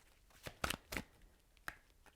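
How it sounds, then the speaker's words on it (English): A deck of tarot cards is shuffled by hand in a few quick riffling bursts, short crisp rustles spaced apart in a quiet room. "2 more shuffles."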